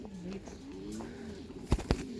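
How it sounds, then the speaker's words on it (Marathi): Andhra line racing pigeons softly cooing nearby in a low, wavering murmur, followed by two sharp brief knocks or flaps near the end. "तर हे आंध्रा लाईनचे कबूतर आहेत, 12 तास प्लस उडवलेले आहेत."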